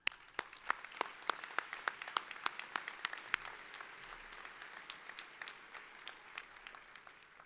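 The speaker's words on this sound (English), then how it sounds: "and they definitely owe you a round of applause." Graduation audience at a high school ceremony applauds parents and staff, a steady sustained wash of clapping with sharp individual claps standing out, moderately distant and filling the whole stretch without talk.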